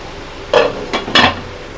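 A lid is set on a cooking pot of chana masala with a few short clinks and clatters, three quick metallic knocks close by and otherwise quiet.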